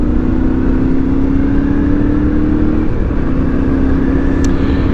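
Yamaha Ténéré T7 motorcycle on the road, its steady engine drone close and continuous with a slight change in pitch partway through as the rider slows for goats.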